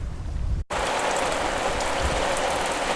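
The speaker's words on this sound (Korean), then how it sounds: "장대비가 내렸다." A heavy summer downpour pours down in a dense, steady hiss of rain on surfaces, loud and continuous after a short cut from a quieter scene.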